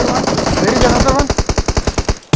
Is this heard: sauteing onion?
no